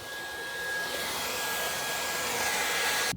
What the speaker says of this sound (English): I put the crevice tool on. I've got a little handheld vac now.